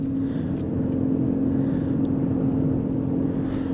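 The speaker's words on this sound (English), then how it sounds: "Let's give it a little bit of gas here." A 2022 Ford Escape Titanium plug-in hybrid SUV with a CVT speeds up under throttle, a steady low engine drone and road noise filling the cabin from close by, with no voices.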